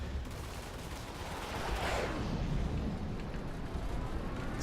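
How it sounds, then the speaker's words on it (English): Spaceship guns fire during a Star Citizen dogfight, a dense continuous rumbling barrage of rapid shots with a deep roar underneath and a sweeping whoosh passing midway, loud and unbroken. "I like to fire both the guns, regardless, at long range."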